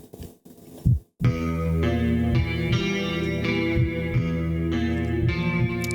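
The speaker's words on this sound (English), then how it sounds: "I forgot about the heartbeats." Heartbeat thumps open a 2008 album: a few deep, muffled beats come first, then a sustained band of guitars and drums swells in and holds steady.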